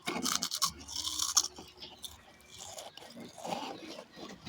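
Crunchy chewing of hard, unsweetened biscuits, close up, with repeated crisp bites and grinding in an uneven rhythm, no talking.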